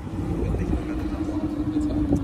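A Lamborghini Huracan pulling up at a Memphis cars and coffee meet, its low engine rumble steady and close under faint crowd chatter.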